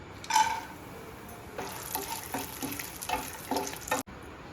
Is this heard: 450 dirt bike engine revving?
no